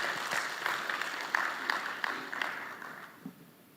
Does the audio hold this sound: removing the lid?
no